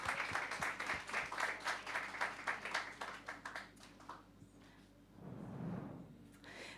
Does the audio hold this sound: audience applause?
yes